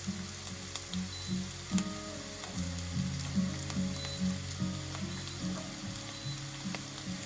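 Onion with a dried red chili fries steadily in a pan while making sambar. A continuous close sizzle runs throughout with soft stirring clatter, and faint tonal notes drift underneath.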